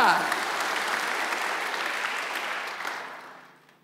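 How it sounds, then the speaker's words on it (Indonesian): A crowd applauding steadily during a church worship service, dense clapping that holds for a few seconds and then tapers off toward the end. "Tepuk tangan bagi Allah kita."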